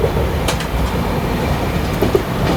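A passenger train, the Navajivan SF express running from Chennai, rumbles steadily along the track, with a loud, continuous rolling roar and faint wheel clatter throughout.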